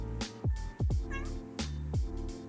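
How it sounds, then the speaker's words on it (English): A house cat meows and purrs close by, its repeated vocal calls rising and falling over a steady low purring rumble. "Meow and purr."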